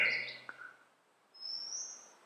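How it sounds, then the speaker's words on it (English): Birds calling out in the open, a few sharp chirps followed by a long high thin cry, faint and distant, no voices. "The birds were screaming away."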